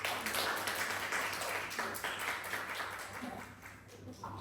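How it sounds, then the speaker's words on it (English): A group claps in a loose, scattered burst of applause that gradually thins out, with some murmuring voices underneath. "Give yourself a big clap."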